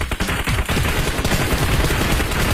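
Rapid automatic gunfire in a shooting video game, dense overlapping bursts of shots firing continuously and loud throughout with no pauses.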